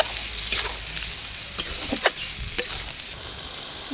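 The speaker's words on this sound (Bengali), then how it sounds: "নেড়ে চেড়ে মাংস ভালোভাবে কষিয়ে নেব।" Chicken pieces are stirred and fried with spices in a pot for a chicken and potato curry, a soft steady sizzle broken by a few sharp scrapes and knocks of the spoon, close by.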